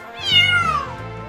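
A domestic cat gives one loud, drawn-out meow, close and clear, rising then falling in pitch over about a second, with no other sound.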